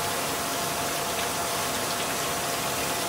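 Water gushing steadily as an espresso machine portafilter is rinsed out, a constant close rushing spray without pauses.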